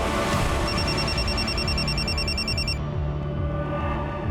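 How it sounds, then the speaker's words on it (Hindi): A telephone rings with a steady repeating electronic trill over a dense background of music and room noise, the ring cutting off partway through. "सर वो रूपाली जी के असिस्टेंट तुषार का फोन था"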